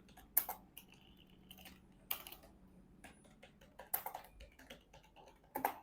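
Keys tapped on a computer keyboard while typing words into a PowerPoint slide, arriving in short, irregular bursts of clicks with pauses between them, faint and close, with no talking.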